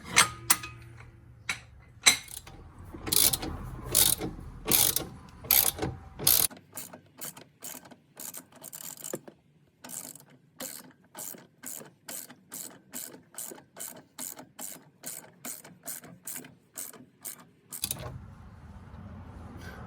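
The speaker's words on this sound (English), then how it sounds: "we got a 19 mil on the wrench, and we'll tighten this top one" A ratchet wrench with a 19 mm socket tightens a sway bar link bolt on a Porsche 986 Boxster, producing rapid, close-up clicking in steady bursts of repeated strokes, with no voices.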